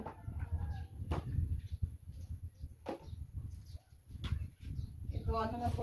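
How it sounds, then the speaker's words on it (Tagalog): A chicken that has wandered onto a home terrace gives soft, scattered clucks close by, with a person talking over the sounds throughout. "May manok na kapasok."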